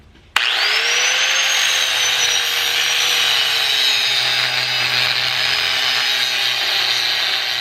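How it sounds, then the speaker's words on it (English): A small cutoff wheel grinds off rivet heads during a C4 Corvette front suspension rebuild, starting abruptly with a loud, steady high-pitched whine that holds continuously and close up, with no talking. "I am going to grind off the heads of all 4 of these rivets here using this with a little cutoff wheel blade on there."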